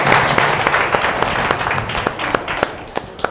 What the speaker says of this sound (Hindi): एक बार जबरदस्त ताली होनी चाहिए सर की